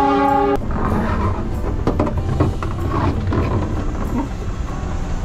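At a train station in Indonesia, a train's horn sounds briefly, then the train rumbles and clatters steadily, loud and close, with no talk.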